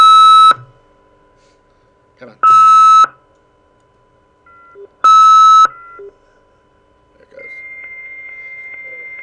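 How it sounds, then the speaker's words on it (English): Old 300 baud dial-up modem connecting: three loud, evenly spaced bursts of buzzing tones with short gaps, then a steady high carrier whistle, and a voice briefly speaks between them. "This is a 300 baud modem."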